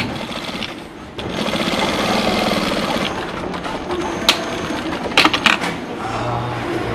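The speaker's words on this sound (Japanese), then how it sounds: "ここでちょっとロックミシン、別のミシン。" An industrial sewing machine in an Okayama denim factory stitching denim jeans, running loud and steady with a dense mechanical whir and rapid needle rhythm, broken by a short pause and a few sharp clicks and clunks.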